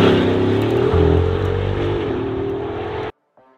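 A Bugatti Atlantic's W16 engine roars loudly and continuously at a steady high pitch, then cuts off abruptly, leaving near silence.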